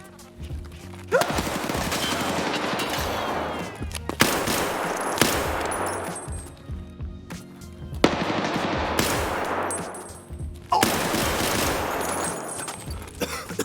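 Automatic gunfire in Escape From Tarkov, with long loud bursts of rapid shots broken by short pauses, close and sharp, repeating across the whole stretch with no talk.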